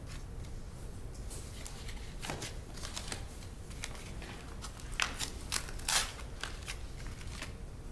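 Scissors snip in a quiet courtroom during a murder trial as firearm evidence is handled, a few sharp crisp cuts and rustles bunched around the middle and end, faint against low room hum.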